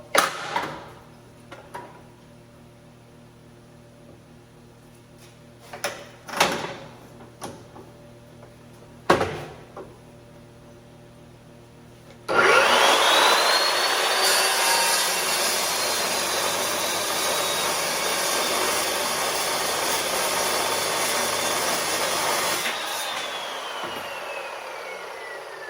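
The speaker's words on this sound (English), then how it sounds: "Cold cut saw. This thing is badass. It's loud as hell, so wear earplugs and wear your safety glasses." A cold cut saw bites into 1-inch solid round steel rod. Several short bursts and clanks come first, then a loud, steady, high-pitched grinding whine that runs for about ten seconds and tapers off, with no talking.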